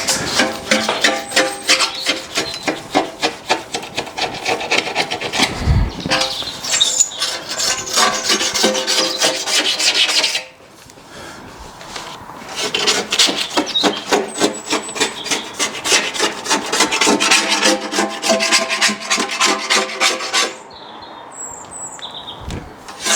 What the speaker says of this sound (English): Get a bit of a Stanley blade going. Take all this gunk off.